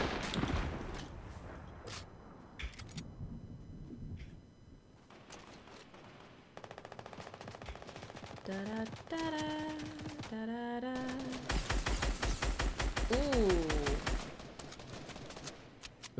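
Fortnite Season 5 battle sounds: scattered gunshot bursts and bombardment crashes in the first seconds, then dense rapid fire with tonal weapon effects and a rising whine later on, loud and continuous with no talk.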